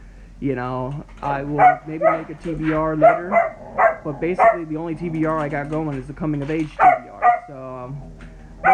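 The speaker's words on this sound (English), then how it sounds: "sorry for the barking again" A dog barks a few times in the background, quick muffled yaps, while someone talks steadily over them indoors.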